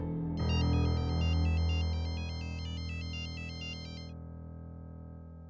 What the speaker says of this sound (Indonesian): angkat telepon kamu